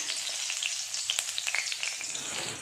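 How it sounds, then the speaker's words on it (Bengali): Green chilies sizzle and splatter in hot oil, a steady bright frying hiss broken by scattered sharp pops, moderately close with no voices. "তারপরে তেলে দিয়ে দেবো একটু কাঁচা লঙ্কা, এটা একটু স্প্ল্যাটার করবে একটু দূর থেকে"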